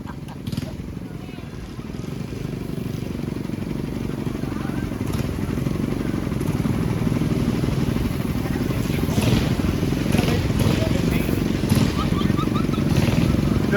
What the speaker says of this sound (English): There's the big Harley Davidson.